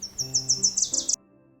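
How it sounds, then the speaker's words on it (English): A bird sings a quick run of about eight bright, evenly spaced chirps close by, then stops into near quiet, in a children's read-aloud story. "The bird is up."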